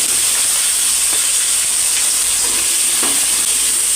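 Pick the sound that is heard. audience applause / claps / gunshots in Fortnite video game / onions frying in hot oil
onions frying in hot oil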